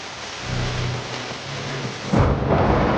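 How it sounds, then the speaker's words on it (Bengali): Heavy rain pours in a dense, steady hiss while thunder rumbles low underneath, swelling into a louder crack and roll near the end. "ধারে বৃষ্টি"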